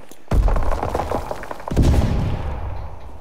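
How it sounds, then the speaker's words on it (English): Sniper rifle shots in a first-person shooter video game, two loud, sharp blasts spaced over a second apart, each trailing off into a rumbling echo. "I'm missing like every shot."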